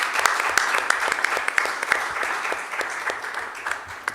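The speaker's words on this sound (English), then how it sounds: "join me in a round of applause for our excellent panelists" A conference audience gives a round of applause for a session's panelists: dense, steady clapping from many hands that lasts about four seconds with no voices over it.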